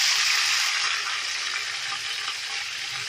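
Ginger-garlic paste for potato biryani fries in hot oil, giving a loud, close, steady sizzle that holds throughout without pauses or voices.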